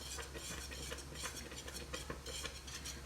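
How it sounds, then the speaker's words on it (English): A spoon stirs strawberry balsamic jam boiling hard in a pot, giving quiet continuous scraping and clinking against the pot over a low bubbling rumble, with no voices. "It is boiling hard even though I am stirring it."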